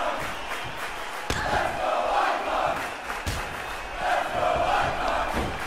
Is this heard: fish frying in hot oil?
no